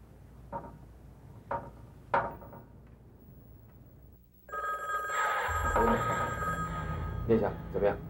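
A telephone rings loud and close in a tense indoor drama scene, its repeated electronic bell tones filling the second half after a few sharp knocks and thuds, with voices talking nearby.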